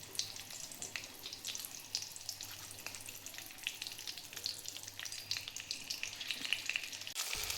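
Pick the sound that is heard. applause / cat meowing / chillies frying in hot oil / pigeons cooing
chillies frying in hot oil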